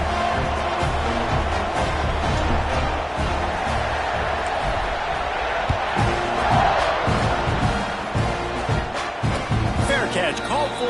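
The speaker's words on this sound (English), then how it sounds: "this crowd is buzzing after that last score" Stadium crowd in the College Football 26 video game, a dense, steady roar of buzzing fans that fills the whole stretch, with scattered cheers and thumps rising and falling within it.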